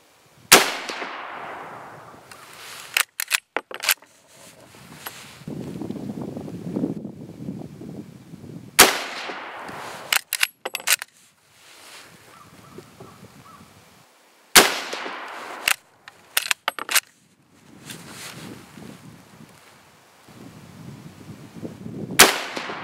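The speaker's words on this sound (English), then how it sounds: "there's 5 shots at 100 yards with the Prvi" Five .303 British rifle shots with Prvi Partizan 174-grain FMJBT ammunition ring out at a 100-yard range, sharp loud cracks spaced several seconds apart, some with clanging echoes, over quiet background.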